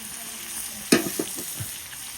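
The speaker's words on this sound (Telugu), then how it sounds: "సో ఇటు ఒక 10 మినిట్స్ అలా మనం ఫ్రై చేసుకుందాం." Fish frying in a pan, a steady soft sizzle throughout with a brief louder hiss and a couple of clinks partway through as the pieces are stirred or moved, close and without talk.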